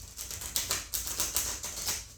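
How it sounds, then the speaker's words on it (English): Tarot cards with a matte finish shuffled face down, giving a steady run of soft, papery riffling patters close up, with no talking. "the shuffle is easier upside down"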